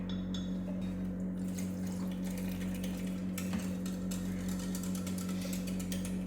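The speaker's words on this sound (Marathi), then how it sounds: "ह्याच्यात थोडंसं आपण पाणी पण टाकूया" Water splashes and trickles into a metal pot for drumstick kadhi over a steady low hum, with faint dripping and clinking throughout.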